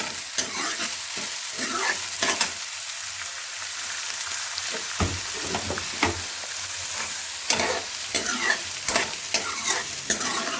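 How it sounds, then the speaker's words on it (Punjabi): Onions being fried and stirred in a pan: a steady, loud sizzle runs throughout, broken by frequent scraping and knocking strokes of a spoon against the pan. "ਇਸੇ ਤਰੀਕੇ ਭੁੰਨਾਂਗੇ ਵੀ ਇਹ ਪਿਆਜ਼ ਅਸੀਂ ਲਾਲ ਕਰਨੇ ਨੇ"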